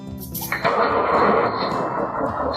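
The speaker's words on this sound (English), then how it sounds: "This is like a truck," Small-truck engine sound played by a sound module in a miniature RC truck, a steady synthetic engine rumble that starts after a brief click and holds at an even level, heard close up.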